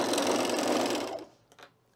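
A sewing machine topstitches a cardigan seam in one fast, steady whirring run lasting about a second, then stops, followed by a couple of faint clicks.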